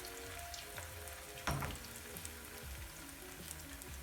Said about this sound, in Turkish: Şöyle atıp arkalı önlü kızartacağım ben bunu.